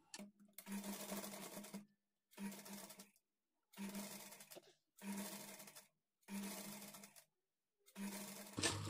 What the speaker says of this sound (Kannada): ಸ್ಟಾರ್ಟಿಂಗು ಎಂಡಲ್ಲಿ ರಫ್ ಹೊಡೆದು ಸ್ಟಿಚ್ ಮಾಡ್ಕೊಳ್ಳಿ.